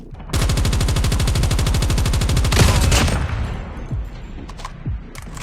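Rapid automatic gunfire in Call of Duty Mobile rattles loudly for about three seconds, followed by scattered single shots and booms fading into quieter game ambience.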